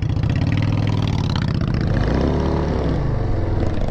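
A motorcycle engine runs close and loud, its throttle blipped so the low rumble rises and wavers through a short revving burst, with no voices over it.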